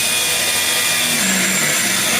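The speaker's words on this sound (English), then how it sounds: "drill it out." A power drill bores out spot welds on car body metal, a loud continuous whine close by that shifts pitch slightly as the bit cuts through the steel.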